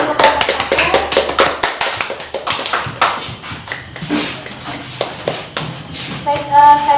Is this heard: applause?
yes